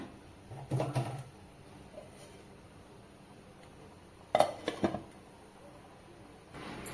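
A couple of metallic clinks and clatters, a lid being handled and set down on a pot of Tamil omam kulambu, close by in an otherwise quiet room.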